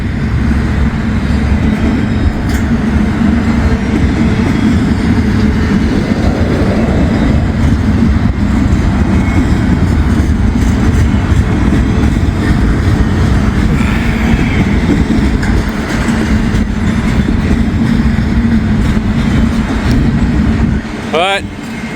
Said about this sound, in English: Not a very long train.